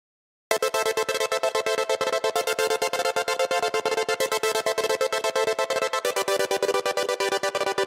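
Synthesizer pad chopped by a trance gate effect made in Reason, starting after a brief silence and pulsing in fast, evenly repeating rhythmic stutters, loud and continuous throughout.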